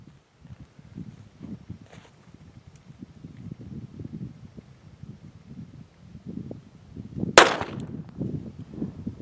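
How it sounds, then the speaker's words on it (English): A Walther P22 pistol fires CCI Velociter .22 LR rounds outdoors. One sharp, loud crack stands out late in the clip over soft wind and rustling, and a fainter pop comes earlier. "Getting ready to shoot the CCI Velociter 5-shot average through a Walther P22."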